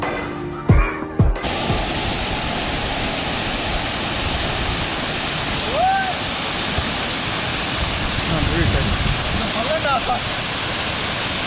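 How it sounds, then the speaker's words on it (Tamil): Water crashes down a waterfall below Thenputhur dam near Villupuram, giving a steady, dense roar close by. Brief knocks are heard near the start, and faint voices come through under the constant rush. "இப்போ நெக்ஸ்ட்டு வந்து கீழே வந்து ஃபால்ஸ் மாதிரி இருக்குது"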